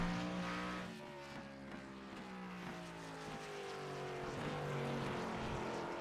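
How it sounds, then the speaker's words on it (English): Chevrolet Camaro race cars on a speedway road course during timed laps, engines droning steadily at a distance with rising and falling pitch sweeps as cars pass, no talk. "36 of Tressenot out on the speedway to WSCI Chevrolet Camaro"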